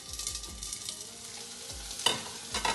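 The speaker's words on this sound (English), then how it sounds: "The potatoes are browned." Potatoes browning in a covered pan for Kerala-style vegetable stew give a steady low sizzle with light stirring scrapes and a brief louder clatter, close and alone.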